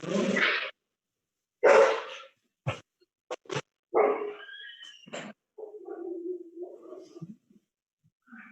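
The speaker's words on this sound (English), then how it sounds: "I'm sure the dog was quiet all night long until just now." A dog barks during a town selectboard meeting, giving several loud sharp barks and short yips in an irregular series, then trailing off into whimpering and whining, close to the microphone with no talk.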